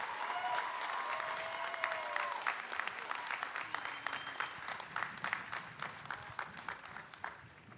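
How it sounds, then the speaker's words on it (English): Applause at a business school commencement for the class of 2021 undergraduates, a full crowd of clapping under a few cheers, breaking into separate claps as it fades out. "could we give a round of applause to the undergraduates from the class of 2021?"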